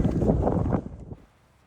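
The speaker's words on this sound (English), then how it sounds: "Wow, it's just so windy." Strong wind on open hills near the English-Scottish border buffets the microphone in a loud, rumbling roar that drops away sharply near the end, leaving a faint low hiss.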